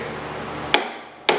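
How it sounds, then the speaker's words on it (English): Two sharp metallic hammer blows on the deck of a 1969 Cub Cadet 105 mower, spaced about half a second apart, each loud and close with a quick ringing decay. "I need a better hammer."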